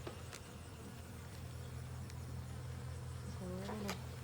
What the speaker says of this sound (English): So we do have bees down in this box, which is really good.